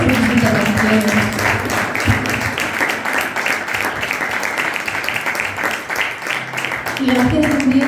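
An audience at a talk on cattle ranches and breeds of the Ledesma district breaks into steady clapping that fills the room, with voices mixed in throughout.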